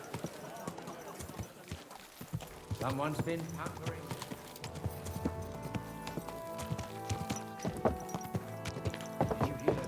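Horse hooves clip-clop in the video game Kingdom Come Deliverance 2, an irregular series of fairly close hoof thuds under spoken dialogue, with background music.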